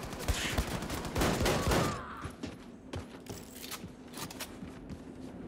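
Bursts of gunfire in the video game Wolfenstein II: The New Colossus, a dense rattling volley up front, then scattered shots and thumps fading into quieter combat noise.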